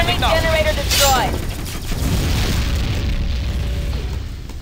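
An enemy generator blows up during a Tribes 2 capture-the-flag match on the Katabatic map, a loud low boom rolling under game voice callouts and ongoing battle noise, with a brief whistling burst early on.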